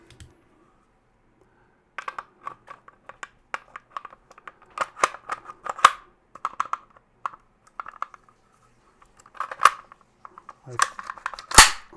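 Sharp metallic clicks and clacks from a Perun X16 rifle in 300 Blackout as the bolt is dropped back into the receiver, close and quiet, in irregular bursts with a louder snap near the end.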